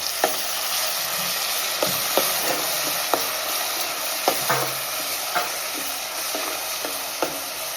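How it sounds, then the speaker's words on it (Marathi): Chopped onion sautés in hot oil with curry leaves, giving a steady close sizzle broken by repeated sharp scrapes and clinks of a spatula stirring the pan, with no voices. "कांदा चप करून घेतले तो सुद्धा टाकून घेऊ आणि तेलामध्ये परतून घ्यायचा"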